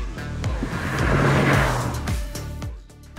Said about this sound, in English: when you really press on, it'll even rev to 4000 RPM with absolute ease